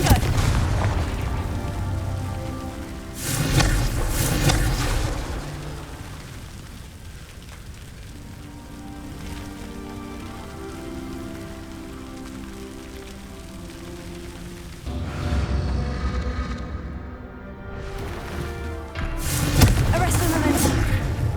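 A Confringo blasting curse in the Hogwarts Legacy video game goes off as heavy booming blasts with crackling, rain-like debris, loud bursts near the start and end over a rumbling background.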